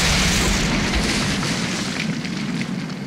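A C4 time bomb detonates in the video game RAGE, a loud, dense roaring blast that rumbles on and slowly tapers off over a few seconds without any voices.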